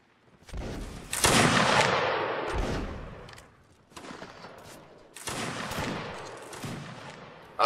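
Rapid volleys of musket fire in the video game Mount & Blade: Napoleonic Wars crackle in bursts, several shots overlapping, with rumbling echoes trailing off between volleys.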